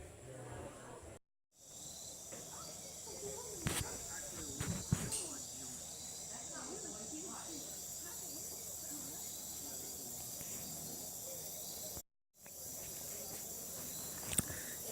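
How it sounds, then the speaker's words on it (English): A steady night chorus of crickets with frog calls mixed in in Panama, a constant insect drone and scattered croaks, with brief quiet gaps. "The frogs, the crickets."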